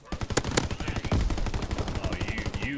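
Rapid automatic gunfire and sharp single shots crackle densely throughout a Call of Duty Vanguard match, loud and continuous with overlapping bursts.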